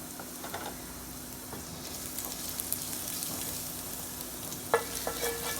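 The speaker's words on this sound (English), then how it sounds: "I'm gonna add the garlic and the ginger so the oil could be flavored" Garlic and ginger frying in hot oil for shrimp fried rice, giving a steady close crackling sizzle with scattered pops and a few stirring clicks near the end.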